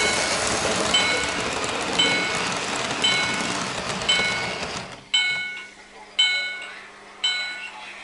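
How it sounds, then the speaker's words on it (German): A Märklin model railway V200 locomotive runs, with a hissing rumble and evenly spaced clicks about once per second, then quieter repeated ringing tones at the same pace. "denn da kommt jetzt die V200, so wie ich das höre"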